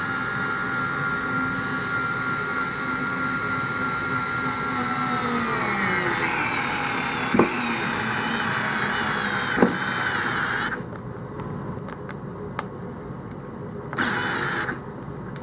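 A small 4-volt cordless drill drives a 2.5-inch screw, its steady high whine running continuously and slowing gradually under load, then cutting out and restarting in short bursts near the end.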